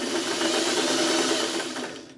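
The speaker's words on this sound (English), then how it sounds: "I'm going to sew that." A sewing machine stitches a pointed piece of fabric in a quilting crumb project, a fast, even whirring hum running steadily for about two seconds before slowing and fading.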